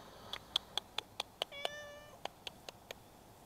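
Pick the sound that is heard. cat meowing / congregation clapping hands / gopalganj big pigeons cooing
cat meowing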